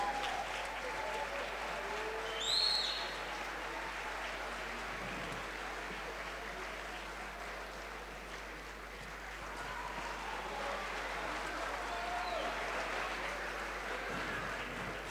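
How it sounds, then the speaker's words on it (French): Audience applause at an African group gala at UNESCO, a fairly faint, steady wash of clapping from a room of guests, with a brief louder swell early on and a low hum beneath. "La Mauritanie sous vos applaudissements."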